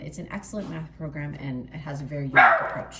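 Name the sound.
dog barking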